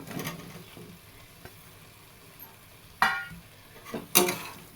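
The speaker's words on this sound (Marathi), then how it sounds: "हे बघा मी शिजवून घेतलेली फणस टाकून घेते ह्याच्यामध्ये" Cooked jackfruit goes into hot masala in oil and is stirred. A quiet sizzle runs throughout, with two louder clanks of utensil against pan partway through.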